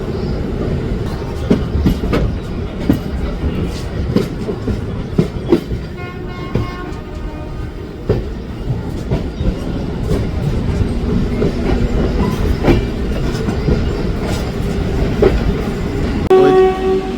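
The Howrah-Dhanbad Black Diamond Express, with LHB coaches, departs Howrah station and rumbles steadily along the rails with rhythmic clicking of wheels, and a horn sounds briefly partway through.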